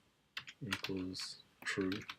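Fingers type on a computer keyboard in quick clusters of close, crisp key clicks, partly under someone speaking briefly.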